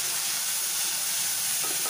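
Fried onions and chopped tomatoes sizzle loudly in a hot pan while being stirred, a continuous close hiss of frying with faint scraping underneath.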